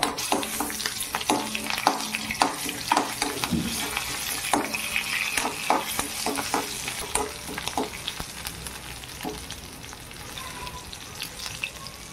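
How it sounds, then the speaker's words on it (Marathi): Cumin, garlic and green chilli frying in hot oil for upma, a continuous crackling sizzle with frequent spoon scrapes and clanks against the pan, close and fairly busy at first then easing off, with no talking. "तेल तापू द्यायचं. जिरं घालायचं, लसूण घालायचा, मिरची टाकून द्यायची नंतर."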